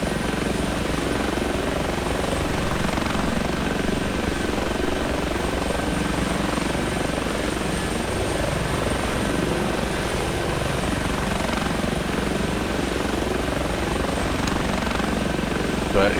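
An H145 helicopter idles in the X-Plane 11 flight simulator, its engine and rotor holding a loud, constant whine and throb with no change for the whole stretch.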